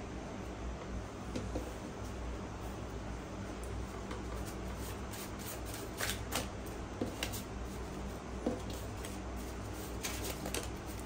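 Playing cards are shuffled in steady bursts of dense riffling clicks, fairly close and continuous, with no voices over them.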